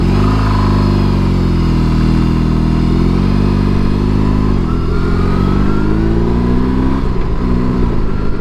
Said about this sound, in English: Exhaust note is better than I would have expected.